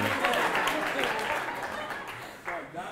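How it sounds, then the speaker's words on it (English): An audience claps and applauds loudly and steadily throughout, with voices mixed into the crowd noise. "A round of applause"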